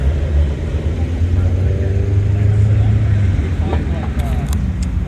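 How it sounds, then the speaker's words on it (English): A Fiat Abarth engine idles with a steady low rumble, then revs briefly near the end, loud and close. "All right, let's hear that Abarth."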